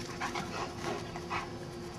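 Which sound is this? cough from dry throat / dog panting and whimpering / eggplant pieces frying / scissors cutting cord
dog panting and whimpering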